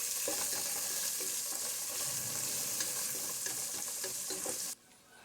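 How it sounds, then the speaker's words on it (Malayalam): Spices and dry curry leaves sautéing in a hot pan, a steady broadband sizzle with scattered stirring clicks and scrapes, close and loud throughout, cutting off abruptly near the end. "ഇനി അതെല്ലാം കൂടി നന്നായിട്ട് വഴറ്റിയെടുക്കും."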